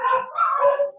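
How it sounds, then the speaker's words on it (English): Dogs downstairs let out a brief burst of yips and whimpering barks lasting about a second, with no talking over them. "you can hear her dogs downstairs."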